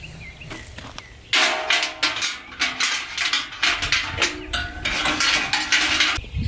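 A metal clip and dog chain clatter and jingle as they are handled for a chicken waterer cradle, repeated close metallic rattles and clinks in quick uneven bursts.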